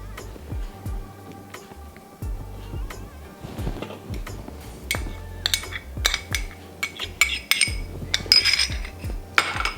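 Garlic and coriander are crushed very fine in a mortar for curry paste, with repeated dull pounding thuds and scraping clinks in an uneven rhythm, close and moderately loud, with no talk.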